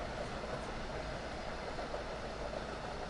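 A commuter train runs in the Train Sim World 2 video game on the Boston Sprinter route, giving a steady, unbroken rumble of engine and rails at an even level, with no talking.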